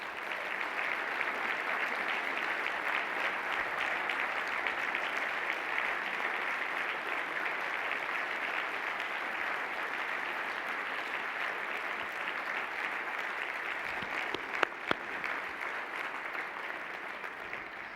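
A university convocation audience at UMass Boston in 2009 applauds newly tenured professors, a steady, even wash of many hands clapping that lasts the whole stretch, heard from a distance at moderate volume with a couple of sharper claps near the end.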